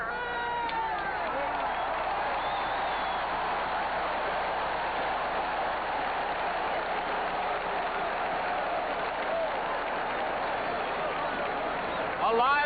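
A football stadium crowd at a 1978 Green Bay Packers game against the Raiders cheers in a continuous, broad roar that stays steady throughout, with announcers talking over it.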